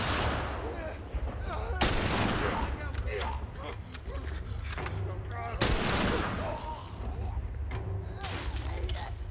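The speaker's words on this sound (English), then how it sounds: "Can someone give me more ammo?" Gunfire in The Last of Us Part II comes as a couple of sharp, loud shots over a busy, noisy game soundscape, with a voice speaking in between.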